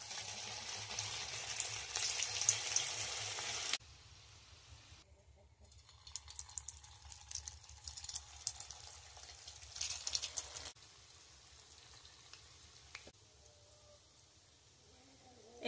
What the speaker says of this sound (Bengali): এইভাবে অল্প আঁচে ভেজে নিতে হবে আস্তে আস্তে করে, অনেক সময় ধরে